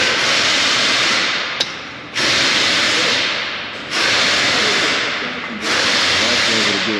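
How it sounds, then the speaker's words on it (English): A hydraulic lift table carrying an engine is lowered in a working shop, giving four long, loud hissing releases separated by brief pauses, with faint clanks underneath. "We're going to drop the lift table down a little bit, which is squeezing this handle"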